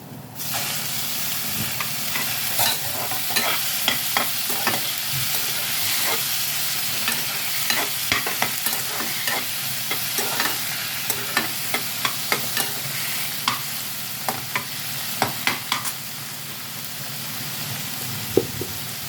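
Onions and tomatoes sizzle steadily in a pan for an Assamese dish, with a utensil stirring and scraping in repeated taps and clinks close by; no one speaks.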